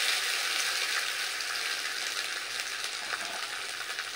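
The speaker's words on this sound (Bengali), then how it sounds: "তো কালো জিরে দিয়ে দিলাম, এবার দিয়ে দেব সেদ্ধ করে রাখা আলু।" Boiled potatoes go into hot oil with nigella seeds in a pan while making a potato filling, giving a steady, continuous sizzle and crackle close by with no talking.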